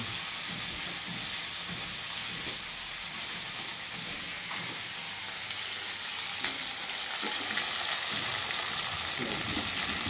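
Masala frying in a pan for kakra (crab) curry, a steady broadband sizzle running the full length with a few soft scraping stirs, fairly close and even in loudness, no talking.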